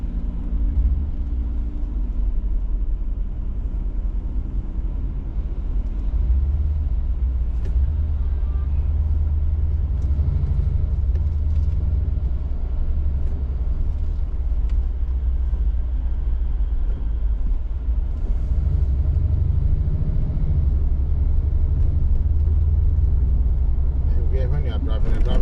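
A car drives through the city streets of Tangier, Morocco, with a constant low engine and road rumble from inside the vehicle and a person talking over it.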